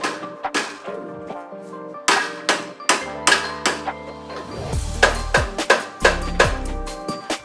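Repeated sharp hammer blows ring out on metal while trying to knock a car shock absorber loose from its steering knuckle on an old BMW, irregular strikes, some with resonant metallic rumble, loud and close.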